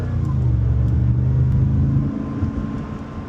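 Supercharged E2 GTS car engine droning low and steady while driving, a loud continuous rumble that eases off slightly toward the end, with no voices.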